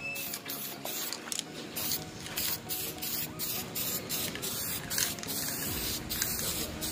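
An aerosol can lays down a thin layer of candy red matte paint, hissing in a continuous close spray with slight pulsing. No one speaks.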